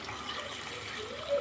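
Water poured into a pot of chicken badami korma as it cooks, a soft, steady pouring trickle that lasts about a second and a half at close range.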